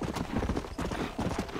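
Horse hooves clip-clopping in the Western video game Red Dead Redemption, a steady close rhythm of repeated hoof strikes at a trot, fairly quiet.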